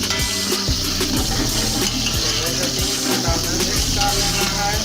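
Finely chopped garlic fries in hot ghee for chicken egg fried rice, giving a loud, steady, dense sizzle up close, with faint scraping stirs underneath and no voices.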